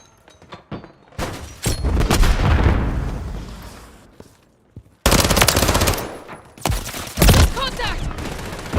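Gunfire in Call of Duty MW3, loud bursts of rapid automatic fire with heavy booming shots, breaking off in a short lull before resuming, near and intense, with game voices mixed in.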